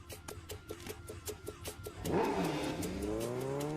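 A car in a Hindi action film revs and pulls away, its engine rising in pitch with some tire squeal after a stretch of rhythmic background music, loud and close.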